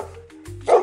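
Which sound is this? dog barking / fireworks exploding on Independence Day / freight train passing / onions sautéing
dog barking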